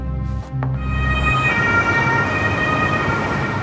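An ambulance siren wails loudly and close by, its tone rising and falling over the rumble of passing traffic.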